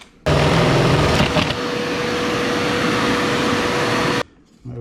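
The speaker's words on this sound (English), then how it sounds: "I'm use a 1-inch spade bit. I'm going to drill that hole out." A power drill with a 1-inch spade bit whirs loudly and steadily up close as it bores a hole, starting and stopping abruptly.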